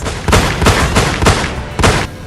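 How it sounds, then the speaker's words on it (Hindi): Rifle gunfire from a rooftop during a land dispute in a village, heard as five loud, sharp shots spaced about a third of a second apart, each a broad crack with a brief tail, no talk over it. "साफ साफ सुनाई दे रही है फायरिंग की आवाज।"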